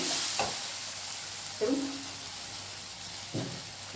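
Tomatoes fry in a pan for egg cutlets, giving a steady soft sizzle with three brief scraping stirs spaced through the sound. No one speaks.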